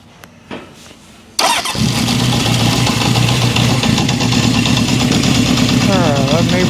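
A 1972 Honda CB750 Four inline-four motorcycle engine starts abruptly after a few quiet clicks, then idles steadily and loudly with a brief rev flutter near the end.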